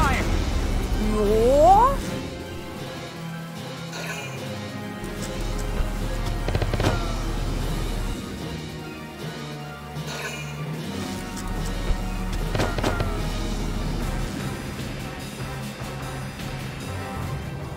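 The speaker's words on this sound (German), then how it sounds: "Die schießen nach da vorne." Gunfire and explosions from the video game Valkyria Chronicles, a busy battle soundscape with repeated sharp bangs and cracks over a rumbling background, some bursts louder and nearer, mixed with game music and effects.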